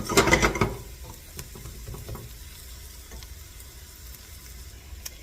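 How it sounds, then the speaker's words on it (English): Garlic sautéing in a pan for spaghetti sauce, opening with a burst of scraping and clattering stirs, then settling into a quiet, even sizzle with occasional faint clicks, no voices. "Alright, our garlic has been sauteing"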